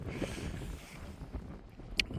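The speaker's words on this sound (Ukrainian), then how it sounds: "Вибачайте, друзі, за вітер." Wind buffets the microphone with a low, gusty rumble in an open field during a metal-detecting search, and a short click sounds near the end.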